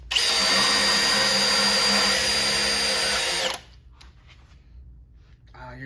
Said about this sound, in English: Now, first hole, Milwaukee with the Diablo auger. Go.